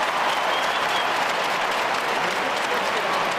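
A large football crowd at a Sydney Swans match against Fremantle, the applause and cheering loud and continuous as a dense, even roar throughout.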